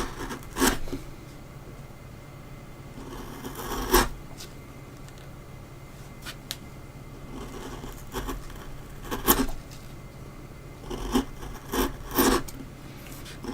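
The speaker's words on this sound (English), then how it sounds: "Now you can tell when a chisel's cutting actually on wood rather than ripping it or pushing it out of the way" A chisel carving a wooden dragon sculpture, giving short scraping and rasping strokes at irregular intervals over a quiet background, close and fairly soft.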